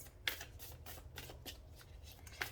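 Moonology oracle cards are shuffled and tossed down in soft, quiet papery flicks and riffles, close by, with a couple of sharper snaps at the start and end.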